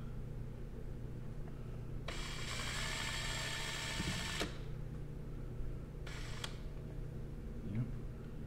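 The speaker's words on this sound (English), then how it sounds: "I'm just going to finish it out with this step bit." A step drill bit widens a pilot hole in a vehicle cowl panel for an LED turn signal, giving two bursts of high grinding whine, a longer one of about two seconds and a shorter one, over steady background hum.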